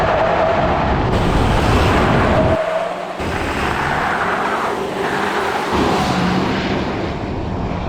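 A GMC Sierra 2500 AT4X AEV heavy-duty turbo pickup launching from a standstill in two-wheel drive, its engine roaring loud and close through the gears with a short drop during a shift.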